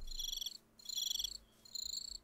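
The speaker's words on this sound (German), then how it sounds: "Grillen." Crickets chirp in the Minecraft-based game Life in the Woods, three bursts of high trilling separated by short pauses, faint and steady with no voices.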